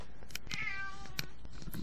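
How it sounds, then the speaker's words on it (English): A cat meows in a long drawn-out call, with shorter clicks and noises around it, heard close and fairly quiet. "Okay, a quick transmission from Kitty"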